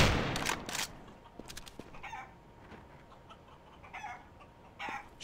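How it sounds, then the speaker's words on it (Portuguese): A chicken in the video game CS:GO clucks in short sharp bursts, loud at the start and then in scattered fainter squawks over quiet background noise. "Deixa eu praticar com a galinha."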